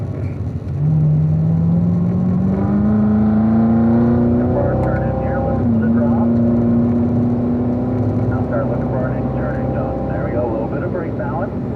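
A car engine on a race track drones loudly and steadily, its tone climbing under acceleration, then dropping abruptly partway through as the driver downshifts before climbing again.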